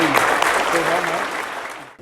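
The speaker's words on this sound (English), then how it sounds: "Big round of applause again." Children and families at a primary school presentation day applaud an award, a close, lively crowd of clapping with faint voices and cheering mixed in, fading out at the very end.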